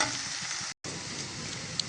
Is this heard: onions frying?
yes